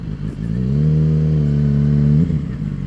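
A 2007 Suzuki GSX-R 750 sport motorcycle engine revs loudly and close by. It holds a strong, steady, rising drone for about two seconds before dropping back to idle, with no talk.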